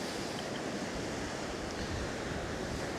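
Steady, loud wind roars without a break over the Jurassic Coast shore at Kimmeridge, with a low rumble of surf mixed into the continuous gusting noise.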